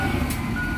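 Truck at an unloading port in Mabini, Batangas, giving a steady reversing beep over a loud, rumbling engine idle, close by and brief.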